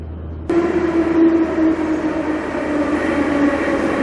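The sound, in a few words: metro train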